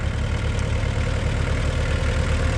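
A Kubota RTV1120 utility vehicle's engine runs steadily at idle, a loud, close, continuous low rumble with a faint knocking pulse and no pauses.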